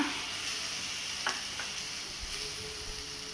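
Tomatoes, curd and mint sauté in a pan for a black rice biryani, giving a steady soft sizzle with a couple of brief stirring scrapes, close and on its own with no talk.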